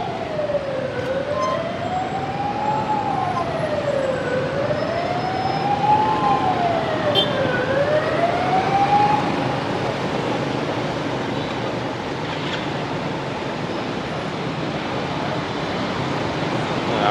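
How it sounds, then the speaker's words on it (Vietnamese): Ambulance sirens wail loudly on a busy Saigon street, the rising and falling tone sweeping repeatedly before fading, over a constant roar of road traffic. "chúng ta nghe xe cấp cứu liên tục"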